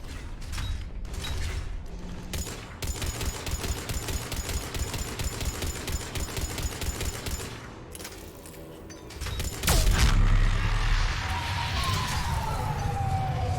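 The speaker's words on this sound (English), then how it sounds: "Harvesters firing on the Turians!" Harvesters firing on Turians in Mass Effect 3: a long stretch of rapid, rhythmic mechanical weapon fire with creaking, metallic texture, broken by a heavy thud near the end and a rising whine afterward.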